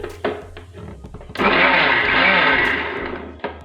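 A kitchen mixer grinder whirs into a loud, dense grinding run on sambar masala with water, after a few clunks and taps, then fades slightly and stops with a final knock.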